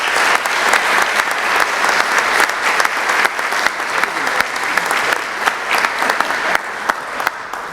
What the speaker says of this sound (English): wave and give them a big round of applause